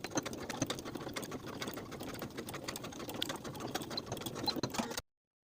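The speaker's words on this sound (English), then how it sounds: "we're going to sew from the center back seam to the edge of that vent with about a 1/2 inch seam allowance" A sewing machine runs steadily for about five seconds, stitching the center back seam of a lined tailored coat toward the vent with a half-inch seam allowance, a continuous close whirring hum that cuts off abruptly.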